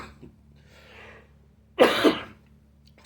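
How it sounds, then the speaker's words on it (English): A single person gives a sharp, loud cough, a short double burst after a few quiet moments of faint breathing and room noise. "Excuse me for that cough"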